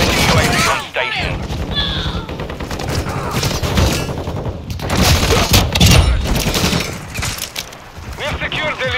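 Dense, sustained gunfire in Call of Duty Modern Warfare 2 Team Deathmatch on the Shipment map, loud and close with overlapping bursts and booms, and in-game voices calling out under the shooting.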